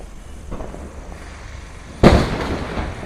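Diwali firecrackers going off outdoors: a muffled distant pop, then a sharp, loud bang about two seconds later that rolls away into a fading rumble.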